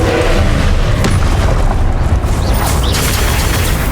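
A Confringo fire spell bursts in Hogwarts Legacy combat, a loud, sustained booming blast with crackling debris that fills the whole moment, with no voices.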